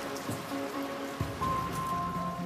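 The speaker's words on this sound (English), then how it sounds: "should we go out in the rain?" Steady rain patters outside a stone charnel house at a historic burial site, a continuous even wash of drops with a faint hum and occasional small knocks in the background, with nobody speaking.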